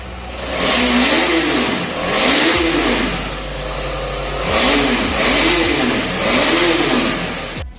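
A KTM Adventure 250 motorcycle engine, freshly launched in Jorhat, revs repeatedly in five rising and falling throttle blips over a steady idle, loud and close with no talk.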